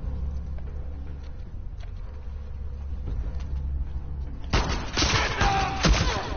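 Gunfire in The Last of Us Part II, a few faint shots in the background at first, then a louder burst of rapid firing and clatter near the end.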